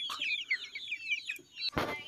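Close chicken clucks and chirpy calls run in a quick series, followed by a short rustling burst.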